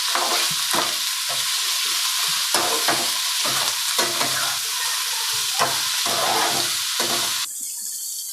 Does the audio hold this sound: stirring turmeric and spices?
yes